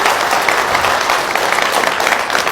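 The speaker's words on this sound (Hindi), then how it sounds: "एक बार जोरदार तालियां हमारी ऑर्गेनाइजेशन के लिए होना चाहिए।" Loud, dense applause from an audience, steady clapping filling the whole stretch without pause.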